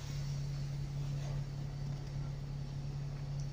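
Arriva Wright Gemini bus 7609 running on a Park and Ride route, heard from inside as a steady low engine drone with a constant hum and road noise, even and unchanging throughout.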